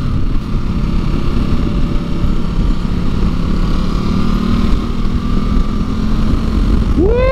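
A Ducati Multistrada V2S motorcycle pulls away and keeps riding, heard up close from the bike as a loud, steady engine drone mixed with heavy wind buffeting throughout.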